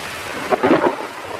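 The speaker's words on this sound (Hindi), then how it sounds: "रात भर तेज बारिश चलती रही।" Heavy rain roars steadily while a low rumble of thunder swells briefly in the middle, a short, dense burst of storm noise.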